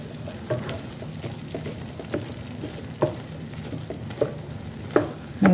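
Chicken fries in a pan with a steady, moderate sizzle, broken by a few sharp clicks and scrapes of a utensil against the pan at irregular intervals.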